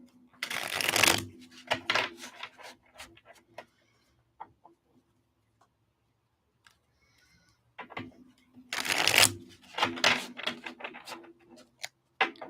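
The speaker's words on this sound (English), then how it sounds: "Shuffling one more time for Kelly." Tarot cards shuffled by hand in two loud riffling bursts, each trailing into a few scattered taps and card flicks, with quiet gaps between.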